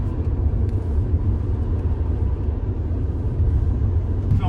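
Car cruising along a road on Réunion island, a steady low rumble of engine and tyres from inside the cabin in the back seat, continuous and fairly loud, with no talking.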